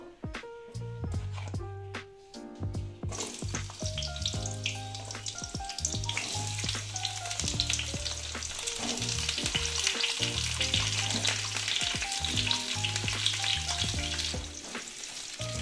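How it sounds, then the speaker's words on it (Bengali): Cut pointed gourd (potol) drops into hot oil in a kadai and bursts into a loud, continuous sizzle, with occasional stirring clatter and a faint musical backing underneath. "এই পটলগুলো আমি এখানে দিয়ে দিচ্ছি"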